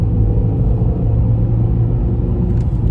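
A 2017 Renault Clio 1.2 16V Dynamique hatchback's small four-cylinder engine drones steadily under acceleration, heard from inside the cabin as a low, even rumble with little change in pitch.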